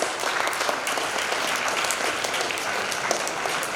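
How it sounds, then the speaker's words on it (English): A crowd at a college awards event applauds the winners, a thick, continuous patter of many hands clapping at an even, moderate level throughout, with no speech over it. "Can we give a big round of applause?"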